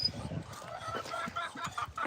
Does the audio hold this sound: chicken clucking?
yes